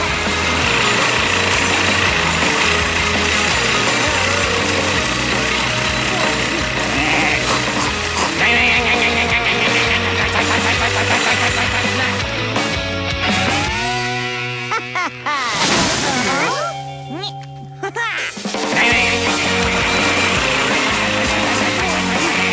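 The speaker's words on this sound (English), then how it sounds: "All this mowing is disturbing my study." Cartoon lawn mower running loud and steady with a buzzing motor drone, briefly dropping out and restarting near the end over background music.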